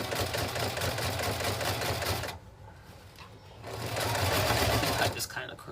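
A sewing machine stitches a princess seam on a top, a loud, close, rapid mechanical chatter running for about two seconds, pausing briefly, then resuming, while a person talks over it.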